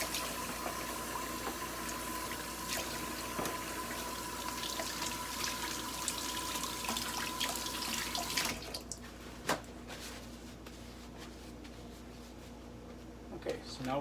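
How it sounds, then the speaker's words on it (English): A kitchen tap runs steadily for handwashing during Angus beef grinding and packaging, a loud continuous splashing that stops abruptly partway through, leaving quieter clinks and handling noises. A voice can be heard in the background. "Wash our hands again before we touch all the equipment."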